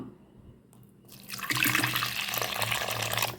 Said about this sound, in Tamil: இப்போ இதுக்கு தண்ணி ஊற்றிடலாம்.